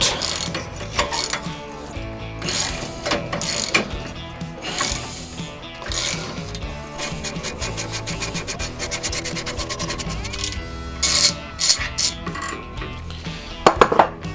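A ratchet works a towbar bolt out of a welded nut on a Range Rover Evoque, fast clicking pawl bursts and grinding metal scrapes in close, uneven runs with louder clacks near the end.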